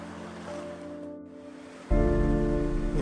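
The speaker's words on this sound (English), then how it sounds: "Listening to the soothing sounds of the big Thompson River as it flows on by." The Big Thompson River in Rocky Mountain National Park rushing past, a steady wash of flowing water with a tonal hum at first, then a sudden louder surge of close-up water noise.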